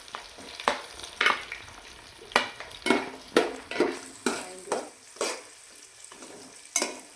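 Whole spices, green chillies and onion frying in a pan for bagara rice, a steady sizzle broken by a dozen sharp scraping strokes of a spoon stirring at an uneven rhythm, close and fairly loud with no voices.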